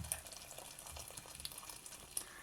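Hot water from a water cooker pours into a container in a soft, faint, continuous splashing trickle, close by and alone.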